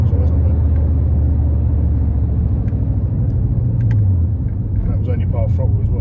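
A Volkswagen Golf Mk4 with the VR5 engine accelerating at part throttle, a deep rising engine drone with road rumble heard from inside the car, loud and continuous.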